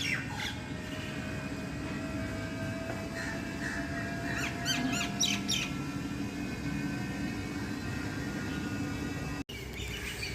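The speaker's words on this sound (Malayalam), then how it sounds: "കണ്ടോ കിളികളുടെ ശബ്ദം കേട്ടോ" Morning birds squawk and call repeatedly in short bursts over a constant low background hum, a mix of harsh cries and brighter chirps close by.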